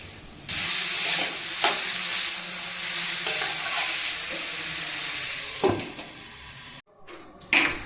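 Shrimp fry in a hot pan with a steady loud sizzle, and a spoon scrapes through them in several separate stirring strokes. A short quiet gap comes near the end before the sizzling picks up again.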